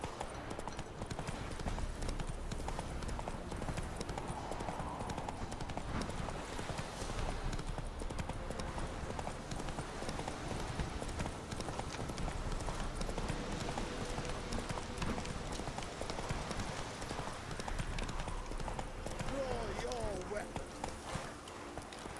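Horse hooves galloping in The Witcher 3 on PC, a steady rapid clip-clop rhythm running throughout alongside game sounds, with someone speaking over it.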